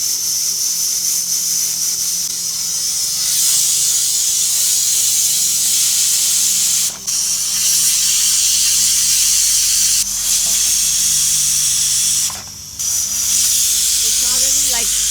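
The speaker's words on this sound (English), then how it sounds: "I just cover my cooker for 3 steams, so I have to wait for the 3 whistles." Loud, continuous steam hissing from a pressure cooker cooking goat curry, broken by two brief dips, with faint talk underneath.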